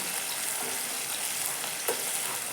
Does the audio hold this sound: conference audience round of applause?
no